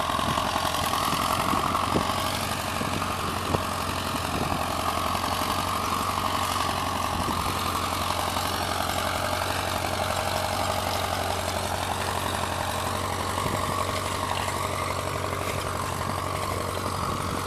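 A Ford 9N tractor engine idles at a plow day, a steady low mechanical drone with an even rumble that holds constant throughout, fairly close with no speech.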